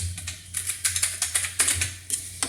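Rapid, uneven clicks of a computer keyboard as a stock name is typed, a dozen or so close, crisp keystrokes over a low steady hum, with no speech.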